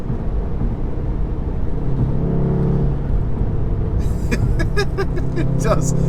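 A tuned Stage 2 2016 VW Golf R pulls hard, its engine and exhaust droning loud and close under a low rumble, with sharper crackling bursts near the end.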